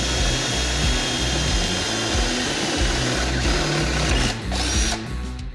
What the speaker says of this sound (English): Now I just need to drill a hole for the headlight to bolt to